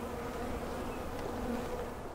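A honeybee colony at the end of winter in late February gives off a steady, dense buzzing hum, close and continuous throughout with no voices.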